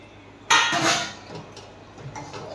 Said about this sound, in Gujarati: મસ્ત એકદમ હલાવી લેશું એટલે બધું ગ્રેવી ને કાજુ ને બધું મિક્સ થઈ જાય.